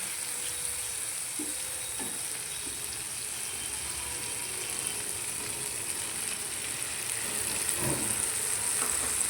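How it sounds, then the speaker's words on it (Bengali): Tomato paste sizzling in a pan with fried ginger and green chilli for a paneer dish, a steady soft frying hiss with a few faint stirring clicks, no talk. "আদা কাঁচা লঙ্কাটা ভাজা হয়ে গেলে আমি এবার টমেটোটা দিয়ে দেবো।"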